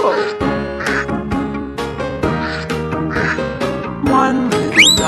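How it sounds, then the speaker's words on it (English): Cartoon-style duck quacks from a children's nursery rhyme about five little ducks, repeated in a rhythmic series over bright music with a rising whistle-like effect near the end. "Mama duck said quack, quack, quack, quack"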